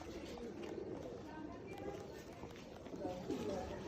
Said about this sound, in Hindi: उस्ताद हसन शाह वाले कबूतर, ज़ीरा ब्रीड, ये टेल, ये आपको दूसरा पर भी दिखाएंगे